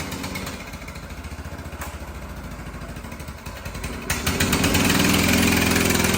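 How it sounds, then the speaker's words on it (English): A 1960s vintage mini bike's small engine, run for the first time in over 20 years, idles with a quiet, even putter, then revs up and grows louder and rougher as the bike pulls away. "I've never heard an engine run this quiet before"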